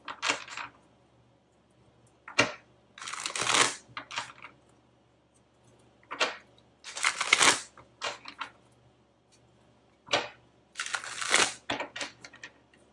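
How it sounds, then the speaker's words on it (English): Tarot cards being shuffled by hand in bursts of crisp riffling and flicking, several separate shuffles spaced with short pauses, close and fairly quiet, with no talking. "I don't know why I really feel like I have to shuffle this."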